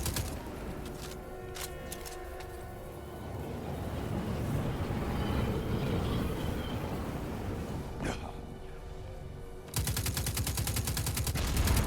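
Gunfire from the Destiny 2 beta, aimed at turbines, rattles steadily beneath layered game music and effects, with a louder burst of shots near the end.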